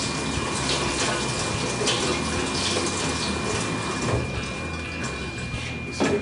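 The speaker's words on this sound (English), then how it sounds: "Quick rinse." Water pours steadily from a tap for a quick rinse while winemaking, a continuous close rush that stays at an even level throughout with no talking.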